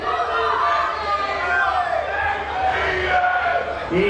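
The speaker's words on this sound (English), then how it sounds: "You got a bit of a cheering squad." Crowd at a chilli eating contest at the Silverstone F1 Grand Prix 2017 woodlands area, steady cheering, shouting and chatter from many voices close by throughout.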